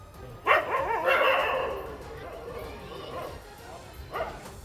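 Stray dogs at a school bark and yip in sharp, agitated bursts, with a loud cluster at the start and another near the end over a noisy, commotion-filled background.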